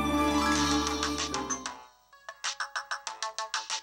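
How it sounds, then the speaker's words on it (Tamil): An incoming phone call rings out as a bright electronic ringtone, a rapid series of evenly spaced melodic pips that repeat after a dense musical passage fades, fairly close and with no talk over it. "ஹே நட்டுதா ஃபோன் பண்றான்"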